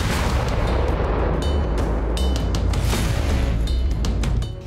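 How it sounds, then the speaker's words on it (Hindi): JDAM bombs strike Russian army positions in Kursk, heard as repeated heavy booms and sharp blasts, loud and close, with the rumble rolling on between impacts. "कुर्स्क के टियोटिकनू में रूसी सेना के ठिकाने पर यूक्रेन ने JDAM बमों से हमला किया।"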